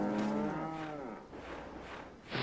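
Cow in the Resident Evil 4 video game lowing twice, a long clear moo with a falling pitch and then a shorter call, fairly close and loud with no talk.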